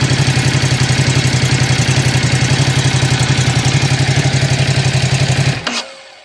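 A Ducati SuperSport 939 motorcycle engine runs at a steady, loud idle with a rapid even pulsing thrum, then cuts off abruptly near the end, leaving a brief click and quiet.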